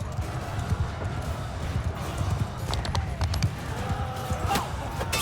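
Horse hooves clip-clop in a battle in the video game Mount & Blade II: Bannerlord. Steady, rapid low thuds run throughout, blended into a dense bed of battle noise at moderate loudness.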